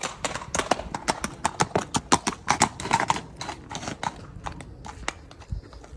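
Hooves clip-clop in a quick, irregular rhythm, loud and close, as a horse moves on hard ground.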